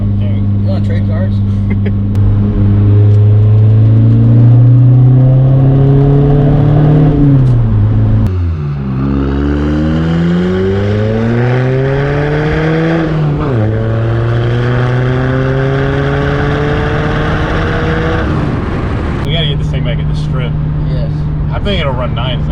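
A Volkswagen 1.9 TDI diesel car fitted with oversized injectors accelerates hard, its loud engine drone climbing in pitch through several gear changes, close and continuous.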